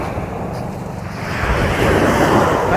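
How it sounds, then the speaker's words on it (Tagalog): Ocean surf rolls onto a sandy Zambales beach, a loud rushing wash mixed with heavy wind buffeting the microphone and swelling stronger toward the end, with no talking. "Nadala na ako ng alo."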